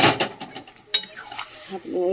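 Dal poured into fried, cooked-down masala in a pan, a sudden sizzling splash with stirring and scraping of a utensil against the metal, close and fairly loud with no talking.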